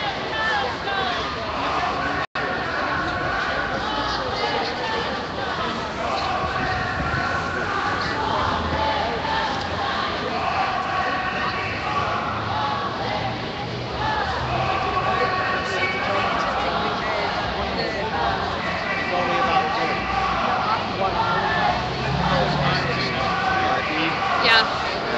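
A large street crowd at a Gaza march in San Francisco, stretching past a bank toward a subway entrance, keeps up a steady wash of babble and footsteps, with nearby voices talking over it throughout.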